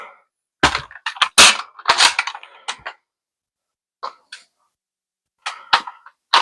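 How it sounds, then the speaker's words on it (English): Sharp metallic clacks and clicks from handling a Ceda S gun as its bolt cycles and chambers, a quick cluster of close snaps followed by a pause and a few more isolated clicks, with no talking. "It's like it changes how the bolt chambers."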